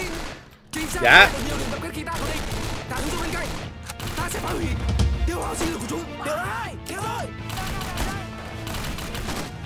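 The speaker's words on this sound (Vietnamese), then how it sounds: "Bộ nó toàn là súng bắn tự động không vậy? Súng bắn liên thanh hay sao á?" Automatic gunfire from a PUBG-style shooter video game rattles in bursts of rapid shots amid loud, cluttered game action, with people briefly talking over it.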